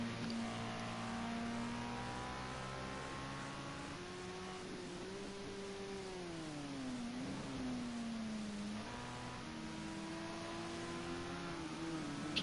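A Radical SR3 race car laps Laguna Seca, its engine droning steadily and loudly throughout, pitch rising and falling through gear changes and braking into corners, with no one talking over it.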